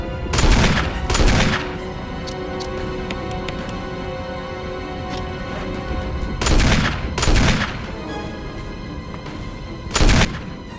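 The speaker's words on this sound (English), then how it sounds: "Kind of look where Barry's shooting" Gunfire in the Resident Evil video game, loud shots in spaced bursts at the start, in the middle and near the end, over a steady game soundscape.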